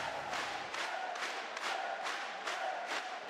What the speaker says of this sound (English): Sound of the crowd is huge.